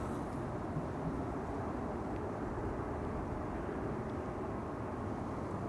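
An Embraer E2 jet airliner at Schiphol Airport produces a steady, broad engine rumble and roar that holds constant without talk.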